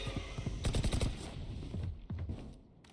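Gunfire from a Valorant esports match, a quick cluster of sharp shots fired in rapid succession, then scattered quieter reports that trail off toward near silence.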